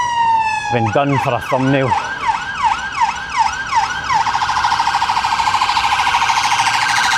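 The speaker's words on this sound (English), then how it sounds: "Oh, it's an ambulance." An ambulance siren sounds on a Glasgow city centre street, loud and close, sweeping in slow wails before switching to a rapid yelp, with a voice speaking briefly near the start.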